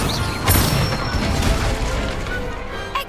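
Casting of the Incendio fire spell in Hogwarts Legacy: a loud whooshing crash and burst of flame, then a sustained roaring, crackling wash that fades slightly before a final small pop.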